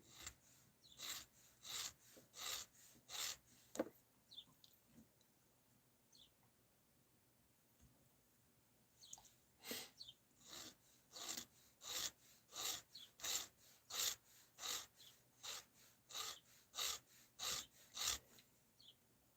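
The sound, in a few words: hand filing wood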